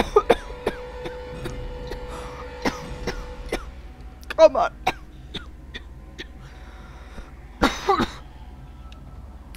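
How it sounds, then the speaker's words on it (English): A person coughing in short bursts, a few sharp coughs and throat clearing scattered among talking voices over a steady low background hum. "my face got so hot from coughing"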